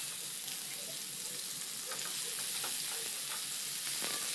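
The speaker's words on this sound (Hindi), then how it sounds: "तो सबसे पहले मैं सीख कबाब डाल रही हूँ और इसे जो है ना पहले हम ढक के बनाएंगे" Seekh kebabs sizzle steadily on a barbecue grill pan over a low-to-medium flame, a continuous close crackling hiss with faint scattered pops, and no one talks.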